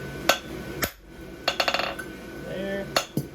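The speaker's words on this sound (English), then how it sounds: "I just got a little set hammer here." A small set hammer strikes steel close by while a horse hoof template is being made, giving a few sharp separate clinks, then a quick run of ringing taps, then two more hits, with quiet shop noise between.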